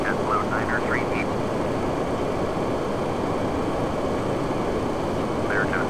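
A PMDG 737-800 jet engine runs in a flight simulator as a steady, dense roar. Brief bits of voice break in at the start and end.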